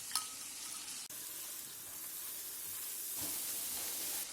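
Masala for raw jackfruit kofta curry cooking in oil in a pan, a steady bright sizzle and hiss that runs without a break, close by, with a few small clicks and a faint clatter near the start.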